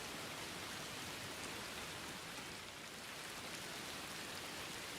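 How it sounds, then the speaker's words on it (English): Video game rain in Viking Frontiers falls as a steady, full hiss of drops on surfaces, continuous and fairly loud across the whole stretch with no voices over it. "Wow, the rain's pretty loud"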